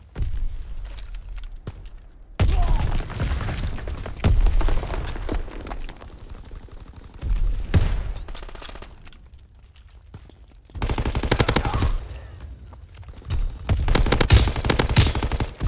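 Shotgun blasts in the Call of Duty WWII multiplayer game boom out in loud, heavy bursts, several clusters spaced irregularly with quieter stretches between them and no talking.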